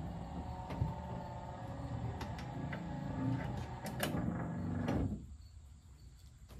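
Windshield washer pump and wipers run on a vehicle with a newly installed electrical system, giving a steady motor whir with light mechanical clicks that stops abruptly near the end, leaving a quieter background.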